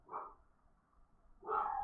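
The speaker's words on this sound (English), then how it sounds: "She hears someone outside and she's got to bark" A dog gives two short barks with a pause between them, somewhat muffled and moderately loud, as she reacts to someone outside.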